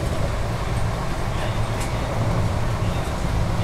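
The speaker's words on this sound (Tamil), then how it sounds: "ட்ராக் சவுண்ட்லாம் சும்மா பயங்கரமாக கேட்குதுங்க." Yesvanthpur to Vasco-da-Gama express train running fast at around 115 km/h, heard from on board as a loud, continuous roar of wheels and track noise with faint clicks.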